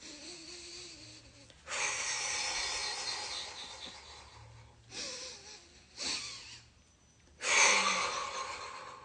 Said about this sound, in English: Nice, powerful breaths.